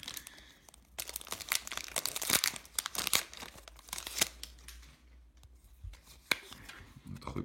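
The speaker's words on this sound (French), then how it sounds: "il me reste 6-7 paquets avec celui que je suis en train d'ouvrir" Pokémon Ultra Prism booster pack wrapper being torn open, close crinkling foil and sharp tearing rips in bursts, busiest early, then quieter rustles with a few brief snaps.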